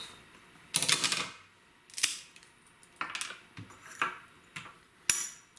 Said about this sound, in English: I'm just using some heavy-duty scissors